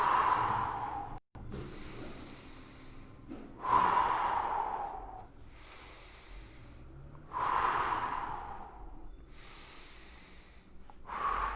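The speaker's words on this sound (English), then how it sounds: "Exhale as you go to the side." Slow audible breaths during a home workout stretch, a long nasal exhale followed by quieter breathing, repeated three times in a steady rhythm, close and moderately loud with no talk.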